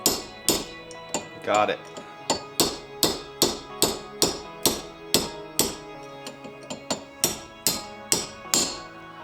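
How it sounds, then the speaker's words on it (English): Hammering on Toyota W56 manual transmission parts during a rebuild for a 4Runner and pickup: a steady series of about twenty sharp, ringing metallic blows at a regular pace, close and loud, with a brief spoken remark among them. "since we were doing so much banging and hammering in this area"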